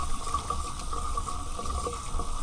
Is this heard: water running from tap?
yes